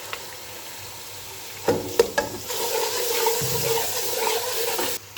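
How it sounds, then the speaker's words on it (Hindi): Spice masala with ginger-garlic paste and ground green chilli fries in a pan, giving a steady, moderate sizzle with a few sharp scrapes and knocks as it is stirred. "अब हम इस मसाले को बहुत अच्छे तरीके से भून लेंगे"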